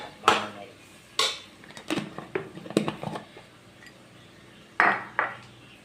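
Beef curry masala with cloves, cinnamon and cardamom is stirred in a pot, with a spoon scraping and clanking against the metal in bursts, close by, and quieter shuffling between the knocks.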